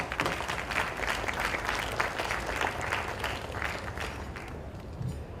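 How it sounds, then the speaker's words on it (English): An audience at an Indian Republic Day celebration in Sri Lanka, attended by local and foreign dignitaries, breaks into dense, sustained applause; many hands clap steadily and fairly loudly throughout, thinning slightly toward the end, with no talk over it. "I request all of you to give yourselves a round of applause."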